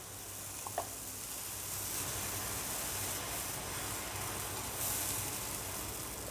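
Batter for mitha puli, a Puri temple sweet, sizzles steadily in hot ghee, a constant close frying hiss with a few small crackles and no talking.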